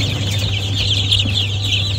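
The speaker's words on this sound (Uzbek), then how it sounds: "Mana jo'jalar." A crowd of roughly 20-day-old chicks of Legbar, Dalmatian and Plymouth Rock breeds peep continuously in a dense, shrill chorus over a steady low hum, with no talking.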